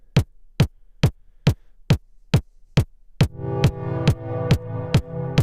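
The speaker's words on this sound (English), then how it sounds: "I'll just play the kick. Let me play the pad, because the pad makes it really clear." Kick drum pulses at a steady beat, first alone and then joined by a sustained synth pad whose level dips and swells around each hit from sidechain compression ducking, played through an iPad and Eurorack live setup with an Expert Sleepers ES-9.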